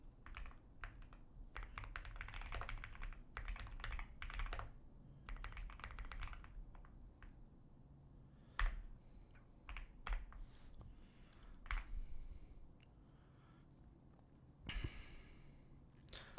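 Quiet, close typing on a computer keyboard during a coding session, with irregular clusters of soft key clicks separated by pauses and occasional faint breaths.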